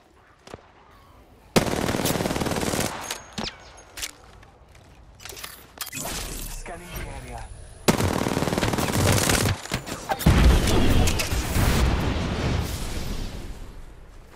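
Rapid automatic gunfire bursts in the video game Apex Legends, loud and close, with sharp impact cracks and a few brief pauses between volleys.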